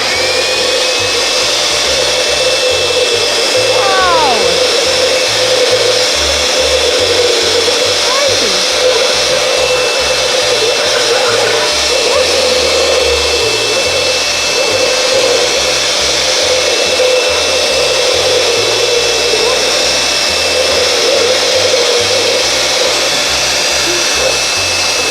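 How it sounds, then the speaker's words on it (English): A leaf blower roars steadily and loudly throughout, a constant whooshing drone of rushing air with a low motor hum underneath. "I am using a leaf blower"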